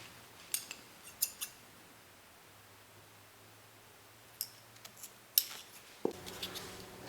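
Scissors snip through crochet yarn from a slipper project in a quiet room, a few sharp close clicks early, a cluster of cuts around the middle, then a louder clack and soft handling noise at the end.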